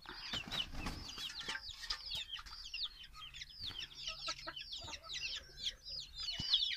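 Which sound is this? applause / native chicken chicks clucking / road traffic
native chicken chicks clucking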